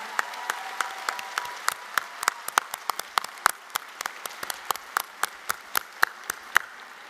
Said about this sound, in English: I'd like you first to give a round of applause